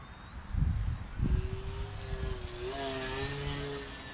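RC airplane with a Hobby King D2836-8 motor, 9x6 propeller and ZTW 30 amp ESC flying at a distance, a thin whining buzz rising in pitch as it passes, over wind and faint outdoor rustling.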